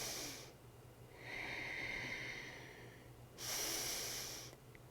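Steady breaths during a yoga stretch in a wrist-focused class, with a long drawn inhale or exhale in the middle and a sharper, louder breath burst near the end, close and alone.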